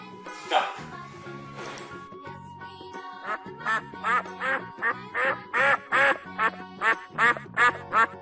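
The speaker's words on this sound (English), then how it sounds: "duck," A duck quacks repeatedly in a steady, close, loud series of honking quacks over light background music.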